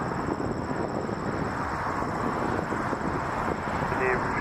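Boeing 737 airliner lining up for departure at Toronto Pearson Airport, a steady distant engine roar with a thin whining tone above it, continuous and even throughout, with radio talk faintly mixed in.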